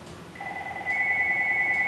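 A telephone begins ringing with a steady electronic two-tone warble, loud and close, starting a moment in and sounding on without a break.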